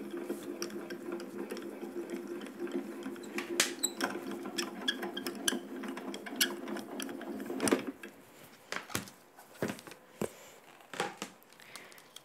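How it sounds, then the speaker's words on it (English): A manual die-cutting machine grinds and creaks steadily as a craft cutting plate and base plate are cranked through, a low mechanical whir broken by clicks and crinkles, then louder handling clatter once it stops. "run it through the machine"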